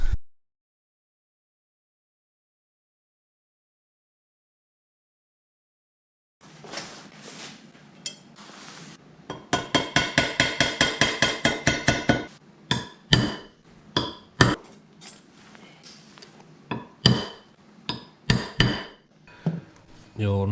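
Sharp metal-on-metal hammer blows drive a center punch into a steel brake disc to mark hole positions, first as a fast, even burst of about a dozen strikes, then scattered single and paired knocks, close and loud in a quiet workshop.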